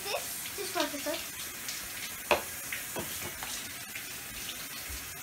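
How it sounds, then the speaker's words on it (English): Warm water runs from a tap into a sink for hand washing before nail prep, a steady close hissing splash with a few sharper knocks, while someone talks over it. "Warm water."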